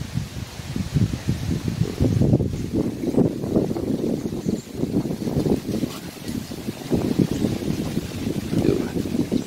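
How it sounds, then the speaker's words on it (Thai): Strong, cold wind gusts buffet the microphone in a canal-side garden at Sattahip, a continuous low roaring rumble that swells and falls in waves, loud and close, with no talking over it. "ลมแรงจริงเลย ลมเย็นๆปะทะผิวนี่สะท้านเลยนะ"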